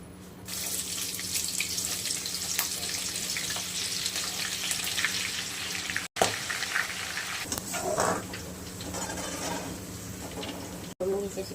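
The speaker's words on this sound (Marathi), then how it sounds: "त्याच्यात मिरची पण तळून घ्यायची" Thin poha chivda frying in hot oil with green chillies, a steady, close hiss and sizzle that runs almost unbroken for the whole stretch, with two very brief dropouts.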